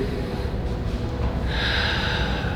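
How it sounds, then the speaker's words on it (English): A single deep diaphragmatic breath is drawn in through the nose, close and audible, as a long steady airy inhale that strengthens slightly toward the end. "So we're going to do breathe in."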